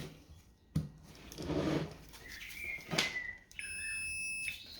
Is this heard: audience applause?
no